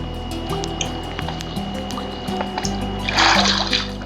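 Running water splashes and trickles in a video game, a steady wet wash over looping game music that swells into a louder rushing burst near the end.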